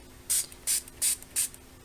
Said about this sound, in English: And I like to spray generously.